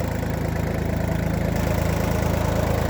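A Japanese Iseki TU220 tractor with a 22-horsepower engine idling evenly and quietly, a close, low rhythmic diesel chug with no voices over it.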